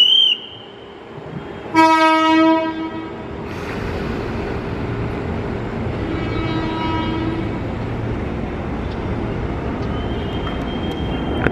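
A KRL commuter train at Manggarai station in Jakarta sounds a short loud horn blast, then its wheels and motors rumble steadily past nearby, with a fainter second tone partway through.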